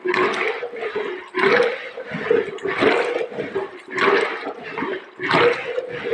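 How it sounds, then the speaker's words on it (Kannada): Buttermilk churned by hand with a stick churner fitted with a coconut shell, giving rhythmic sloshing, swishing strokes that repeat about every second, close and steady with no voices. "ಕೋಲಲ್ಲಿ ಚಿಪ್ಪು ಹಾಕಿ ತೆಂಗಿನ ಚಿಪ್ಪು ಹಾಕಿ ಅದರಲ್ಲಿ ಮಜ್ಜಿಗೆ ಕಡಿದು ಬೆಣ್ಣೆ ತೆಗೆಯುವ ವಿಧಾನ ನೋಡಿ."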